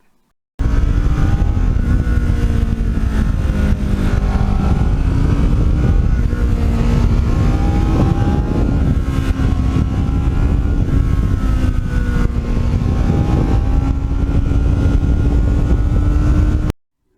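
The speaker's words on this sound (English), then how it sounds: "when you got at full throttle or you're going through the gears, it's got a really nice sound" Kawasaki Ninja motorcycle engine held at full throttle, a loud steady roar with rising and falling harmonics as it pulls through the gears, close and continuous with no speech.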